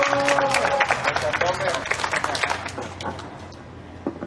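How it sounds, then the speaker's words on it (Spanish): On a nighttime legends walking tour in Taxco, Mexico, a tour group gives the staff a round of applause: scattered hand claps over chatter and voices that thin out and fade toward the end. "También me gustaría que le brindáramos un fuerte aplauso al personal del staff"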